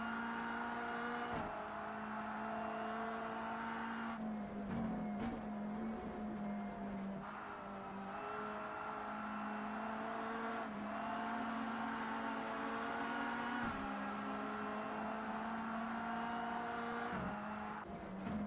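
Mini Cooper race car engines in the racing game Race Pro drone on steadily, a loud continuous whine with small rises and dips in pitch as cars rev and shift, no voices over it.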